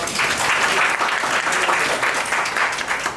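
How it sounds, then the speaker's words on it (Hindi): Students at a competition held for Valmiki Jayanti are applauded by a crowd: dense, steady clapping that fills the room at close range and holds evenly throughout with no pause. "तो सभी छात्र अपने लिए तालियां बजा सकते हैं"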